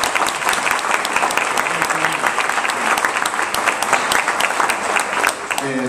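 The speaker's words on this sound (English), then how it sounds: "Can we get a round of applause for Kyle and Nancy?" Loud, close audience applause for two speakers at a talk on legal issues in social entrepreneurship, a dense, steady round of clapping that keeps going throughout.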